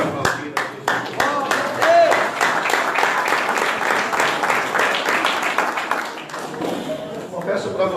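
Church congregation clapping steadily for several seconds, a dense patter of many hands with talk and voices mixed in throughout, tapering slightly near the end.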